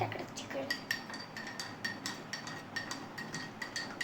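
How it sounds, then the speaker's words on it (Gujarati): A spoon stirs coffee in a cup, giving a steady run of light metallic clinks and taps against the ceramic, close by and moderately quiet throughout. "તો આમાં આપણે કોફી તો નાખી દીધી અને આપણે હલાવી દઈએ"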